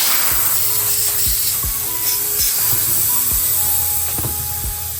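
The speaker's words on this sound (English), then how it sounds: "We're going to go ahead and connect the air gun." Continuous hissing of compressed air blowing from an air gun nozzle during leak checks on a Suzuki GSX-R 750 motorcycle, steady and close, with a few faint clicks and low thumps in the background.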